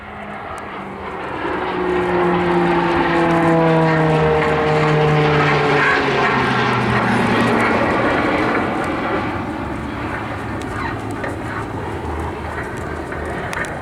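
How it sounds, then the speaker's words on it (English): An RAF Tucano T1 turboprop airplane roars past overhead during a 720-degree roll at an airshow, its engine pitch sweeping and shifting, loud and close before easing slightly toward the end. "He's about to run from the left-hand side and roll the airplane through 720 degrees"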